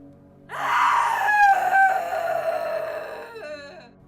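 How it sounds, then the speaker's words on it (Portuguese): A woman screams in an apartment building stairwell or elevator shaft, one long sustained high cry that wavers and breaks off briefly, then trails down and fades after about three seconds. "E outra vez a mulher gritou."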